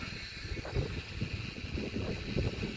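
Cold wind gusting across an open hilltop near a rural village in Kavre, Nepal, a low rumbling buffet against the microphone that swells and eases in irregular pulses.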